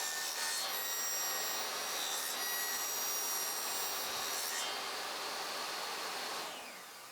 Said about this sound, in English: set my table saw blade height to a little over half of the divider's height, made a couple of passes to cut out the notches